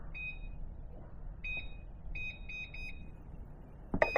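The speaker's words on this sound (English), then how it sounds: "Put the timer for an hour." An oven timer being set, giving a series of short high electronic beeps in irregular groups, close and clear over a quiet background, ending with a louder clunk.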